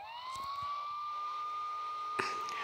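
A police siren wails steadily in GTA 3, its tone holding high and continuous, with a brief sharp knock near the end.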